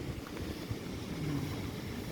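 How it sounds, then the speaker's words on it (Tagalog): Strong gusting wind buffets outdoors, a steady rushing roar with low rumbling microphone noise and no voices. "ang lakas ng hangin dito, mga karika"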